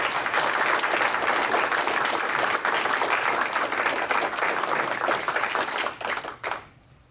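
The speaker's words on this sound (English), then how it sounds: "Hand of applause" A church congregation at a Sunday service applauds, dense steady clapping filling the room for about six seconds before it thins and fades out.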